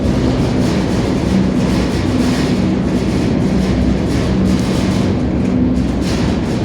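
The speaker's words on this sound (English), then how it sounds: "And there's the rest of our train right there, way in the back there" A long freight train rolls past at close range, a loud, continuous rumble of rail cars with steady wheel noise and faint clatter throughout, no voices over it.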